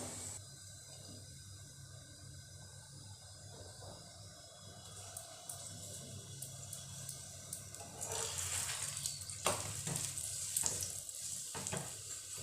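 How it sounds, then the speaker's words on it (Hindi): A stuffed papaya paratha roasts in oil on a hot griddle, a soft steady sizzle with scraping and pressing sounds growing busier toward the end, no talk. "हमें इसको हर तरफ से इस तरह से प्रेस करते हुए सेक लेना है"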